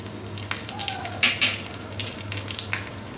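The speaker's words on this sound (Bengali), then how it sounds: "ভাজা তেলের মধ্যে ফোড়ন দিয়ে দেব। 2 শুকনো লঙ্কা," Dry red chillies and black cumin crackle and sizzle as they hit hot frying oil, a close, busy spitting with sharp pops over a low steady hiss.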